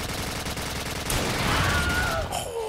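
Sustained automatic gunfire in a Roblox shooter, a dense rapid stream of shots loud and close throughout, with a tonal game sound rising near the end.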